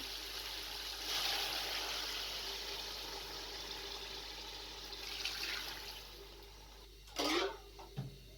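Water pours into a cooking pot in a steady hissing stream for several seconds, then a short clatter and splash close by.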